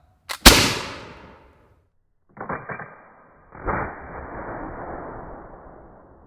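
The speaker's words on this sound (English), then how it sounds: "That is the musket demo with the Brown Bess musket." A Brown Bess flintlock musket fires in an outdoor colonial living-history demonstration: a sharp click of the lock, then one loud crack that rings out and decays, followed by softer rattling handling sounds.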